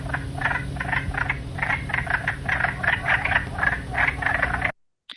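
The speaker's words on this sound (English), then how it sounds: "The wood frog sounds like ducks quacking in the distance." Wood frogs call in a rapid, duck-like clucking chorus, many short quacking notes repeated in bursts over a low background hum, moderately near, ending abruptly.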